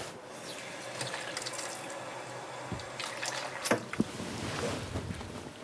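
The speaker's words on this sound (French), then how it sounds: "on remplit d'eau froide" Cold water poured from a tap into a bowl of dried black mushrooms, a soft steady rush with a few brief clinks and splashes partway through, close and fairly quiet.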